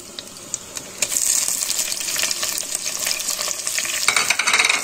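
Onion tossed into a hot pan with sausage starts frying with a sudden loud sizzle, followed by a continuous close crackle and scraping stirs.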